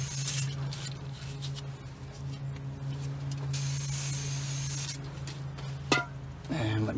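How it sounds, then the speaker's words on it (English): Brake cleaner sprayed onto a brake rotor of a GMC or Chevrolet truck, a steady hiss lasting several seconds under a low shop hum, ending with a short clunk. "Brake cleaner, both sides,"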